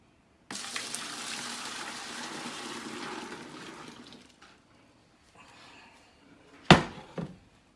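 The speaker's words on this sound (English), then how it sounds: "we're gonna add this warm water we have here to the bucket as well" Warm water pours from a container into a bucket while making homemade laundry detergent, a steady splashing rush that tapers off after a few seconds, followed by quiet and then a couple of sharp knocks and clatters.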